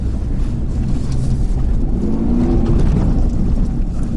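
A heavy truck on aggressive tires, tonneau cover fitted, driving hard through sand with wheels spinning, giving a loud continuous low engine rumble and drone under buffeting wind noise and a rising tone midway, with no talk.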